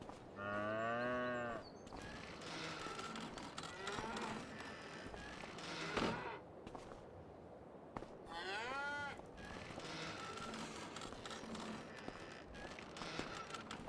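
Cattle in a cow barn on a farm in Farming Simulator 25 moo in long, loud drawn-out calls, one early and another midway, over a steady low ambient hum with scattered soft knocks.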